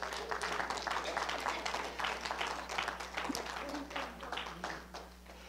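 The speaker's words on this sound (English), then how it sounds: "Let's give God a hand clap" A church congregation claps together in a busy, sustained round, moderately distant, with voices and a steady low hum running underneath.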